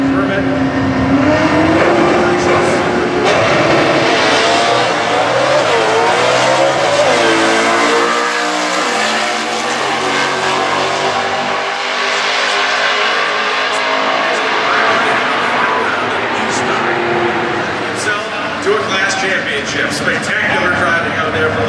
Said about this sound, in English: Tony Hernandez from Denver, Colorado, the 1965 Corvette with 327 four-speed combination.